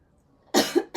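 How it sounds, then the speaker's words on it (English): A single sharp cough bursts out close to the microphone, followed by a second short cough, from a person painting during a live stream. "And I do apologise if I cough"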